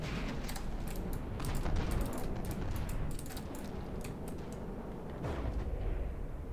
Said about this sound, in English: It's just one explosion.